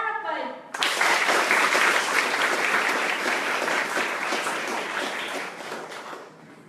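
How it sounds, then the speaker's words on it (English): A conference audience breaks into sustained, dense applause that swells suddenly and stays loud for several seconds, then slowly tapers off, with a brief voice just before it begins. "Please give a big applause to our second speaker, Ms. Ilda."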